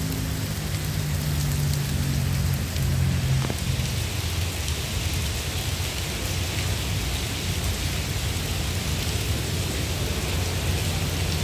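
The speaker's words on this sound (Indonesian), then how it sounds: "karena hujan aku nggak bisa ke sana ya" Heavy rain pours steadily and loudly at a Buddhist temple complex in Semarang, a dense, constant hiss, with a low rumble of thunder near the start.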